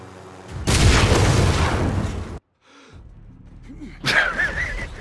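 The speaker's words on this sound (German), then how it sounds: "Die sind einfach explodiert." A video game explosion bursts in loud and roars for almost two seconds before cutting off. After a short lull, a second sharp blast follows.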